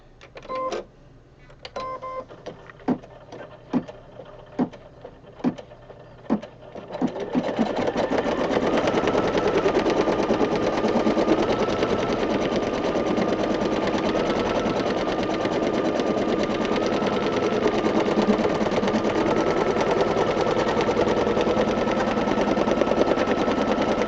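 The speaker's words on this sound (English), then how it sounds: "I'm going to run a placement stitch" An embroidery machine stitches a placement line for a Valentine hug rug, opening with a few sharp, spaced clicks before settling into a loud, continuous rapid needle chatter with a steady motor whine.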